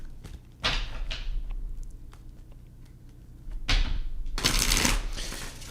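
Two bursts of cards being shuffled up close, a quick riffle followed later by a longer, louder riffle, with quiet handling between.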